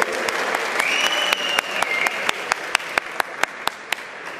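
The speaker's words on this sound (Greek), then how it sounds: "Ένα χειροκρότημα εδώ όλοι." Audience applauds before a fight, a dense burst of clapping that thins into a few separate, sharp claps near the end, with a voice briefly heard over it.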